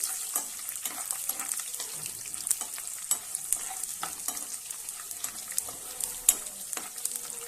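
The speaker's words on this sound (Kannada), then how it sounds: "ಜಜ್ಜಿ ಇಟ್ಟಿದ್ದೆ ಅದನ್ನು ಹಾಕ್ತಾ ಇದ್ದೀನಿ ಜಜ್ಜಿ ಹಾಕಿದರೆ ಟೇಸ್ಟ್ ಚೆನ್ನಾಗಿರುತ್ತೆ ಈಗ ಇದನ್ನು ಚೆನ್ನಾಗಿ ಫ್ರೈ ಮಾಡ್ಕೋಬೇಕು" Crushed garlic frying in oil in a pan for avalakki chooda, a North Karnataka flattened-rice snack: a faint, steady sizzle under frequent light stirring clicks and scrapes, with no one talking.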